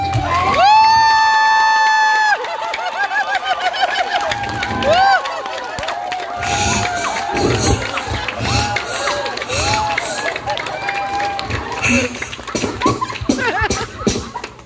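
An audience cheers, shouts and claps for three contestants at a live game event, with excited voices rising and falling over the crowd noise and a speaker talking at the start.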